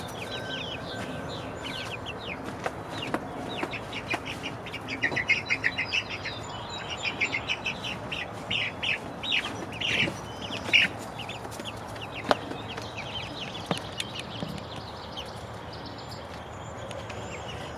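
Hens cluck and chatter inside a large hen house, a dense steady mix of soft clucks and chirps with occasional sharper calls, no talk.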